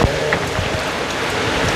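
Steady rain hissing and pattering on a surface, a dense continuous wash of drops with no voices.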